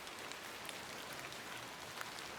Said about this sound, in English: And it's constantly raining